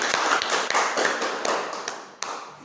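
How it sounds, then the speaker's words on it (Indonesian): Classroom applause for a student, a small group of pupils clapping close by, quick uneven claps that gradually thin out and soften before a few last sharp hits. "Beri tepuk tangan dulu untuk Nadila."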